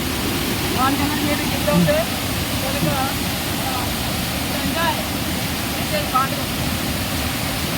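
Water rushing down the Dharapalli waterfall makes a dense, continuous roar close by, with people's voices faintly mixed in beneath it.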